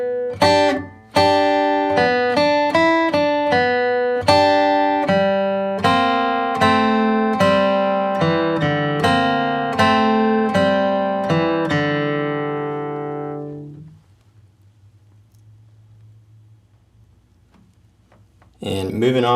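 Acoustic guitar plays a bluegrass flatpicking line, a brisk run of bright picked notes ending in a slide up that rings out and fades, followed by a short pause.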